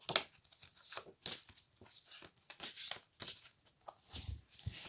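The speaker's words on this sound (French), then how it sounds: "je mélange les cartes" Tarot cards are shuffled by hand close to the mic in quiet, irregular bursts of papery riffling and slaps, rustling on and off for several seconds.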